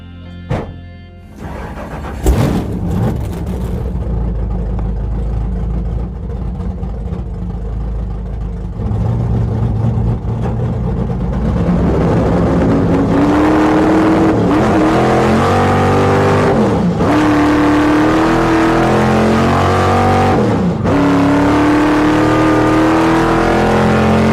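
A 1968 Dodge Charger, the General Mayhem, fires up on the Bonneville Salt Flats, then idles loudly before revving and accelerating hard through rising gear whines, with the engine roaring up close and alone throughout.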